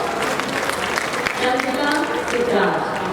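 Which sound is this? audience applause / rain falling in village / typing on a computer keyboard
audience applause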